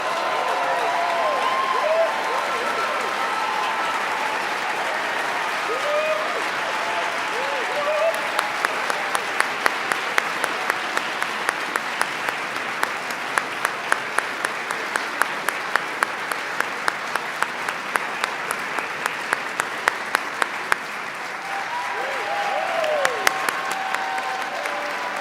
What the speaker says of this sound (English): please join us in one more round of applause for all of our finalists